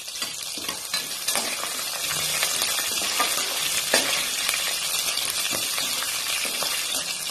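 Chana dal, green chillies and curry leaves fry in a hot pan with a continuous loud sizzle, broken by scattered clinks and scrapes of stirring for the cooking of bottle gourd rice.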